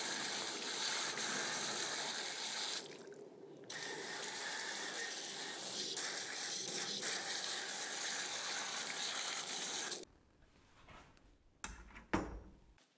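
Water gushes from a tap over a muddy soil blocker for about ten seconds, a loud steady spray with a brief interruption, followed by quieter handling clicks and knocks of the tool.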